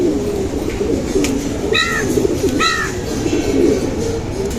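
Silver glazy pigeons coo in low, steady murmurs close by, with two brief higher bird chirps breaking through partway.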